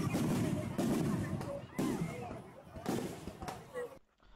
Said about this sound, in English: And here come the fireworks.